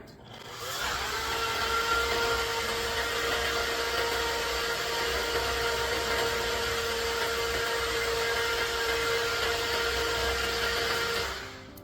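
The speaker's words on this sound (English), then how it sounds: "with the Beast blender, it has a preset like run cycle where it runs for a certain amount of time" A Beast blender purees sweet potatoes with water, its motor starting after a second and running at a steady, loud whir for about ten seconds before cutting off, with no talking.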